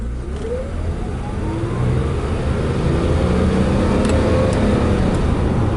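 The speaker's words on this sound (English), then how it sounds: "you want to go through the gears, go up and down through the gear selection" A classic Mercedes-Benz with a manual transmission, its engine droning steadily from inside the car as it accelerates through the gears, loud and continuous with rising pitch sweeps.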